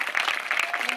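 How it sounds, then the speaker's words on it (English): A Q&A audience gives a brief round of applause for Mink and Becky Lorraine, a short, close burst of clapping from a modest crowd. "a big round of applause for Mink and Becky Lorraine"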